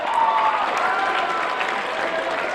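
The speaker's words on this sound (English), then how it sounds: "Give them a round of applause." Brief, loud audience applause from a crowd at a talk, dense clapping that holds steady for a couple of seconds.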